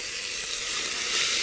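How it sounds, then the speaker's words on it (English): Onions and garlic sizzling as they saute in a pot, a steady, loud bright hiss that continues without a break and swells slightly toward the end. "putting the onions and garlic mixture in here to saute. It smells good. Sizzling."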